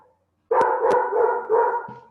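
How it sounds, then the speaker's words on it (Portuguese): A dog barks a few times close by, sharp yelps over a continuous loud background noise, with no talk. "Olha o cachorro."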